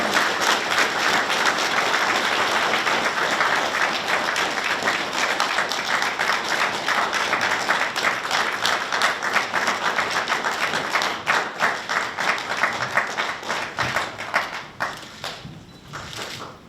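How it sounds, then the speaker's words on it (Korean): Dense sustained applause from an audience at a university honorary bachelor's degree ceremony, many hands clapping loudly and steadily before thinning out toward the end. "여러분 따뜻한 위로와 축하의 박수 부탁드립니다."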